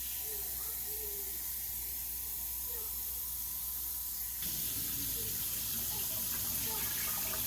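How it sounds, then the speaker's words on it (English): Water pours steadily into a pot fitted with a canning rack while making chicken broth, a continuous loud hissing rush that grows fuller partway through, with no talking. "Then I'm going to add in 4 cups of water."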